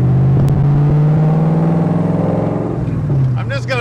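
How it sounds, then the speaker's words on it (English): A 1965 Shelby Daytona replica built by Factory Five, Gen 3, driving with a loud, steady exhaust drone that rises briefly toward the end, heard from inside the car. "I'm just gonna listen to the exhaust for a while."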